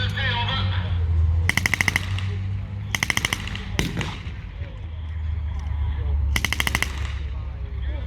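A machine gun at a Tankfest late WW2 battle reenactment fires four short, loud bursts of rapid shots over a low, steady engine rumble.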